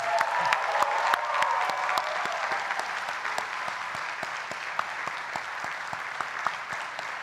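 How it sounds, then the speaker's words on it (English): A large audience applauds the graduating EMBA classes at a 2019 recognition ceremony, sustained even clapping with sharp individual claps standing out, sitting at a moderate distance and continuing for several seconds. "Let's give another collective round of applause for all three classes"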